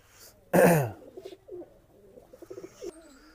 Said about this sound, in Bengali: এখানে একটা চীনা একটা মায়া কবুতর আছে, এবং একটা সাকি জেনারেশন একটা নর কবুতর আছে